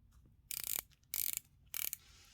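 Bezel of an RMALTI 62MAS homage dive watch turned in three quick runs of ratcheting clicks, close and quiet, slightly hollow and tinny, with brief pauses between turns.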